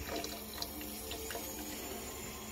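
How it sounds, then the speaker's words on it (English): Water running from a kitchen sink tap in a steady, unbroken stream, heard close and alone without talk. "Look at the water."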